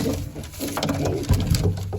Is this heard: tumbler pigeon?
yes